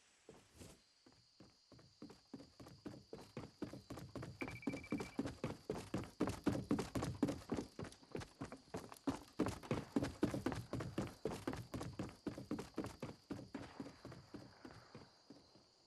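Enemy footsteps in a video game, with the volume boosted, sound as a long run of rapid, evenly spaced thudding steps. They are loud and close, fade in at the start and are backed by a faint steady high tone.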